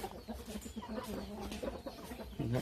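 A fighting rooster clucks in short, soft bursts close by, a low murmuring cackle that rises into a louder cluck at the end, with faint rustling behind.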